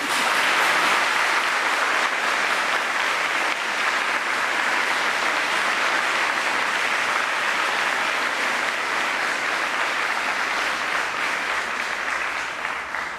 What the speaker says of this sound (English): give your guests a rousing round of applause